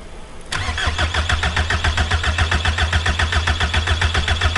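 A car engine with a seized injection pump, run on WD-40 as fuel, is forced into starting: a brief quiet cranking gives way to a loud, steady, rhythmically pulsing engine run that carries on close by.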